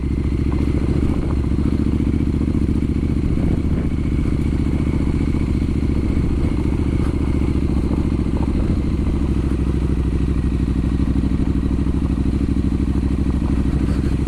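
A Triumph Street Scrambler 900 rides off-road with a loud, steady engine drone and rumble, plus clatter and thumps from the rough ground, and no talk over it.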